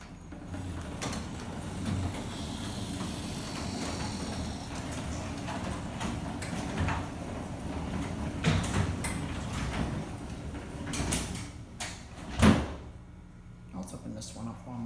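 Precision PDS 800 overhead garage door opener closing a pair of garage doors in Sarasota, Florida: a steady mechanical rumble and whir with scattered clanks, ending in a sharp thump as a door seats.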